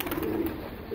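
Racing pigeons give a soft, low coo for under a second, nearby and fairly quiet, with no talking.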